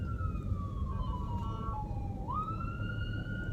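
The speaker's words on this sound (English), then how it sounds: "There's an ambulance." Ambulance siren wailing through three lanes of stopped traffic, a steady descending then rising wail heard from inside a car over low road rumble.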